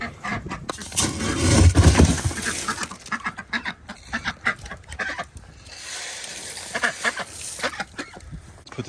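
Ducks quack loudly and repeatedly up close, a busy overlapping chorus of honking calls with a few short pauses.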